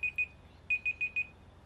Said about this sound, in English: I might just stop that timer.